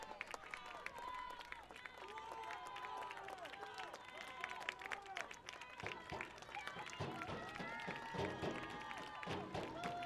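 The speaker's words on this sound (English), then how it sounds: "Crowd makes some noise here at the Long Family Field." Crowd at a high school field hockey championship at Long Family Field, steady distant cheering, scattered clapping and shouts, with voices talking over the noise throughout.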